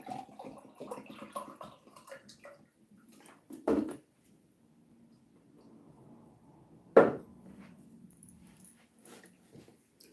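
Water poured into a glass indoors, a soft trickling stream for the first few seconds, followed by a couple of sharper knocks and clinks in an otherwise quiet room.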